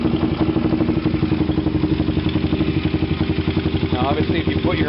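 A vehicle engine for sale idles steadily nearby, a rhythmic low throb with mechanical clatter throughout, while a voice is briefly heard over it near the end.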